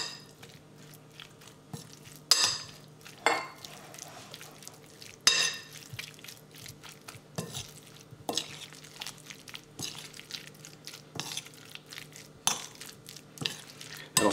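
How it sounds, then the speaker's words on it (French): Fromage blanc being stirred and gently mashed with clementine pieces in a bowl, giving soft wet scraping and squelching with a few sharper utensil knocks against the dish, moderately close and with no talking. "On va venir mélanger tout ça. Donc on écrase doucement le fromage blanc."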